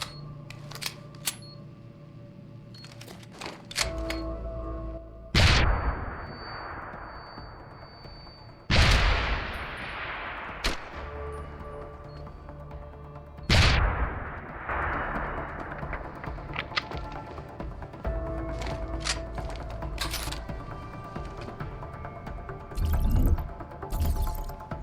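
Gunfire from Deus Ex: Human Revolution, with several sharp, loud shots spaced irregularly, each cracking then decaying with echo, over steady game ambience and scattered smaller clicks and impacts.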